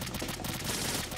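Suppressed gunfire in Metal Gear Solid 2 on PS2 comes as a quick run of soft, muffled shots, faint and close together in a brief burst.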